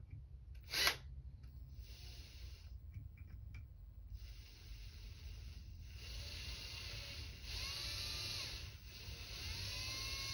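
A small drill whines faintly and steadily while cleaning up a Kimber K6s revolver sight, pitch rising and falling as it runs, after a brief sharp burst near the start.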